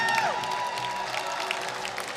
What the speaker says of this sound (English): Come on, round of applause, ladies and gentlemen.